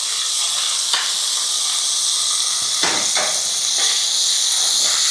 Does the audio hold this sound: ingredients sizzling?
yes